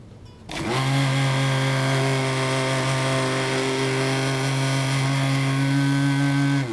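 An electric blender whirs through tamarind chutney, starting abruptly after a brief pause and then running loud and steady with a constant motor drone until it cuts off at the end.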